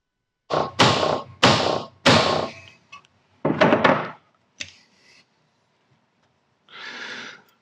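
Oil seals being knocked into a Suzuki Bandit motorcycle front end: a series of sharp, close, hollow thuds in uneven bursts, three quick blows, then a couple more with short pauses, followed by a softer scrape near the end.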